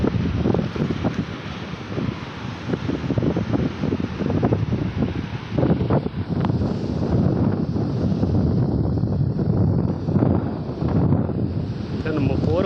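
Strong wind buffets the microphone at a seaside viewpoint near Murud at midday, a loud, steady roar of gusts lasting throughout with no talk over it.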